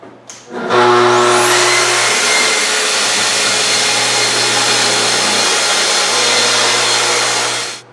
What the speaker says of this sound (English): I got my track saw set up. Got dunnage underneath. I don't care if it gets cut. But this is how I break down sheet goods.